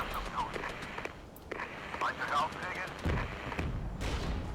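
Artillery and gunfire in the video game Regiments: scattered gunshots and heavy distant booms crackle irregularly across a battle soundscape, with a voice speaking over parts of the fire.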